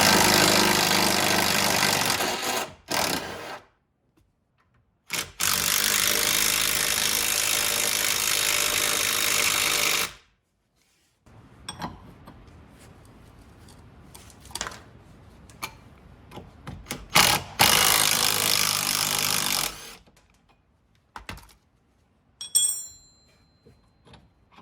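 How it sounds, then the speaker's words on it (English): Impact gun removing suspension bolts on a Honda CRX: two long loud bursts of continuous whirring hammer noise separated by silence, then quieter clanks, ticks and tool handling with another brief burst near the end. "I'm going to take the impact gun now and see if I can zap these off of here"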